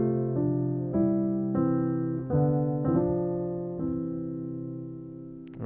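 Piano plays a gospel suspended chord movement, a slow series of sustained chords stepping up and resolving, each voicing ringing out clearly and close by with no voices over it.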